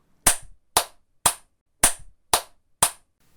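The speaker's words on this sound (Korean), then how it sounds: "다시 한번 제 며느리한테 박수 한번 부탁드릴게요" Six sharp, separate claps ring out alone in a quiet room, evenly spaced about half a second apart, each a crisp loud snap with a short decay, offered as applause for a daughter-in-law at a seventieth-birthday gathering.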